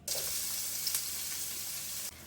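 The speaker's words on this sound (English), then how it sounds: "our oil is heating up, so now we're going to pour our onion" Chopped onion poured into hot oil for a Cuban shrimp enchilado, giving a steady, bright sizzle that holds evenly for about two seconds before cutting off, close and fairly loud with no talking.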